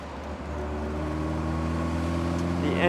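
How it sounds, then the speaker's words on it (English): Engine of a 1967 Alfa Romeo Duetto Spider, top down, revving steadily as it drives through tight bends, its harmonic drone rising gradually in pitch and loudness with no talking. "The engine is happy to rev."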